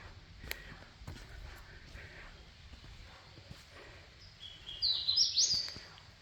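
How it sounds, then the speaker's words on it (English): Birds chirp and call outdoors along a trail at Table Rock after a fire, a quick burst of bright tweets rising near the end over faint rustling and footsteps. "There's some birds talking to each other."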